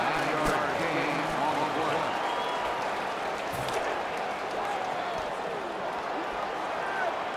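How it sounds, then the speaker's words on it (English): Slow, scattered applause from a football stadium crowd during an NFL game in Denver against the Cardinals, a steady wash of claps and crowd noise with no voices on top. "Nice little golf clap."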